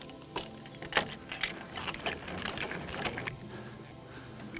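A speed brace on a hex drive winds up the stabiliser leg of an MDC Robson XTT pop-up camper, with close metallic clicking and grinding in short bursts followed by quieter rattles.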